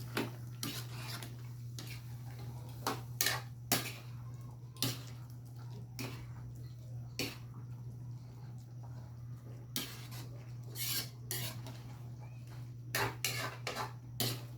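A spoon knocks and scrapes against a cooking pot while pork kaldereta is stirred, giving scattered sharp clinks over a constant low hum, quiet and close.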